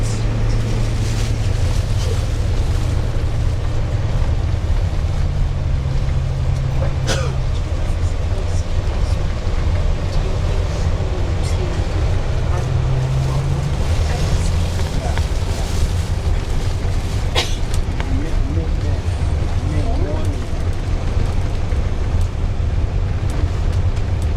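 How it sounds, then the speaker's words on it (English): Steady low rumble of a vehicle driving along a rural road in Spring Green, Wisconsin, with wind buffeting the microphone and a few brief knocks, recorded from inside while people talk. "Right now we're driving along what would have been the original property line of Taliesin, in that all that Frank Lloyd Wright had in"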